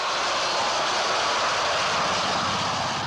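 A British Royal Navy aircraft flies past in a steady, loud, roaring engine drone that holds evenly throughout, close and unbroken, with no voices.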